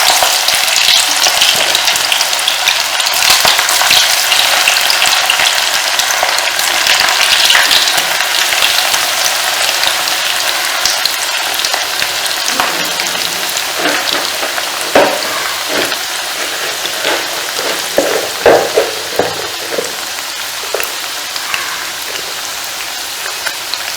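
Muthia dumplings for undhiyu frying in hot oil: a loud, dense, rain-like sizzle that stays constant, with crackles and pops growing busier toward the end, and no voices.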